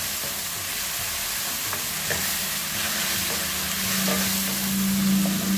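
Tomatoes and six or seven green chillies fry in a pan, a steady close sizzle with occasional stirring scrapes, no talking.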